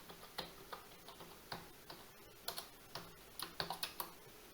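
Soft, quick clicks of a computer keyboard as a password is typed, arriving in short irregular bursts, faint and without any talking.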